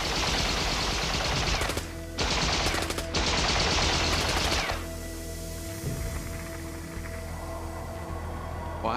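East German border guards at the Berlin Wall fire rapid automatic bursts, a dense, loud crackle in several long volleys, then fading to a rumbling background.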